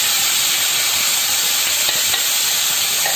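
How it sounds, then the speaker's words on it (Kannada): Drumstick pods (nuggekai) fry lightly in a pan, giving a loud, steady, close sizzling hiss with faint stirring that continues without pause. "ಸ್ವಲ್ಪ ಫ್ರೈ ಮಾಡ್ಕೋತೀನಿ."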